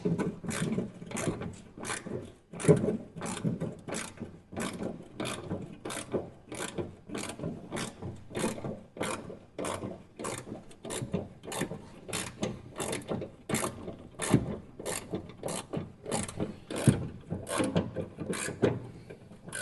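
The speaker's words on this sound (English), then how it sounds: "Very impressive that bolt's actually coming out being under there." A very rusty bolt being worked loose from the spare wheel carrier under a yellow Citroën Saxo, with repeated close ratcheting clicks in a steady rhythm for a long stretch.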